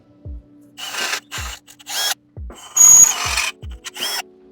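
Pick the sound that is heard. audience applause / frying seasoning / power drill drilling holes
power drill drilling holes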